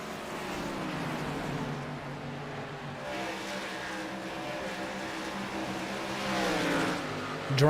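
Pro Cup Series race cars running through a corner on track on championship night: a steady droning engine whine with shifting pitch, swelling louder near the end as a car passes close.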